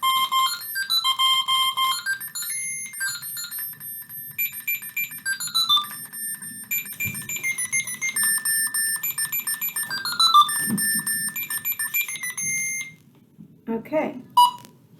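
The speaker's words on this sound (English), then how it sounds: "Press the nose sensor, and you'll hear a beep." A Tekno robotic puppy toy from 2000 plays a run of electronic musical tones and bright beeps, loud and close, with pauses in between and a few short beeps near the end.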